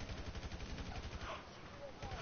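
Gunfire in GTA 5, a fast run of sharp repeated shots pulsing steadily with muffled voices talking in the background.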